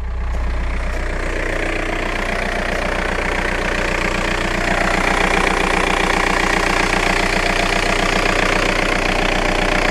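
A Seat Ibiza with a 1.9 SDI diesel engine idles steadily up close, a loud, even diesel clatter with a deep throbbing rumble that holds for about ten seconds with no talk over it.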